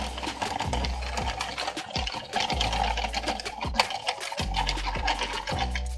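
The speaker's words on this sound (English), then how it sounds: "So I've cranked out a few rows with my project yarn" A knitting machine carriage is cranked back and forth through rows of project yarn, giving a steady, loud rasping whir broken by repeated sweeps with brief pauses at each row end.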